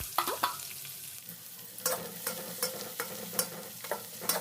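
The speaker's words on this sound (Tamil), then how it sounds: "இப்போ பெரிய வெங்காயத்தை சேர்த்து நல்லா தொலாய் விட்டுக்கலாம்" Onions stirred into hot oil with cinnamon and cloves for chicken biryani, a soft sizzle under sharp intermittent scrapes of a spoon against the pan, close and quiet with no talk.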